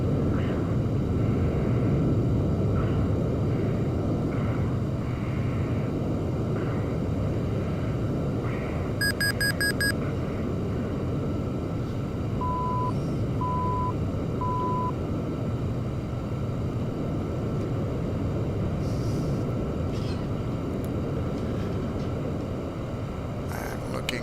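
Video game airplane flying a big semi-loop (Immelmann turn), a steady, loud engine drone running throughout with a few short beeps partway through; no talking.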